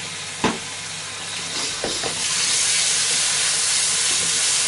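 Yoghurt chicken curry stirred in a pan, a rising steady hiss and sizzle with a couple of sharp utensil knocks early on, close and loud, no talking.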